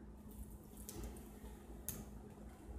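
Water poured onto a waterproof quilted crib mattress pad gives a faint, continuous splashing trickle with a couple of sharper splatters, quiet and close with no talking.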